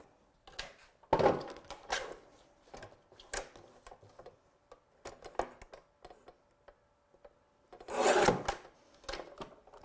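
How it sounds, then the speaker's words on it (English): Card trimmed by hand, with irregular rasping cuts and taps, two louder longer scraping strokes near the start and end, close and quiet with no talking. "And we'll trim this one down."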